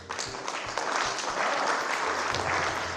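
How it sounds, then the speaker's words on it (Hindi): An audience applauds a poet at a Hindi poetry recital, a steady, close wash of many hands clapping for the full few seconds, with some low thumps underneath. "अगर आपकी सहमति हो तो आपकी तालियां चाहिए"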